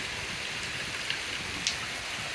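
Rain from a strong thunderstorm in Pittsburg, Kansas falls as a steady, dense hiss of drops on surfaces, with a couple of faint sharper splashes and no distinct thunder.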